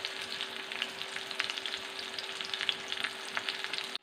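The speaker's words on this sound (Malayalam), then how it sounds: "ഇത് കുറച്ച് ഫ്രൈ ആക്കി നമുക്ക് ഇഞ്ഞെടുക്കാം" Mango pieces frying in hot oil for a mango pickle, a dense close sizzle with scattered pops and occasional stirring, cutting off abruptly at the end.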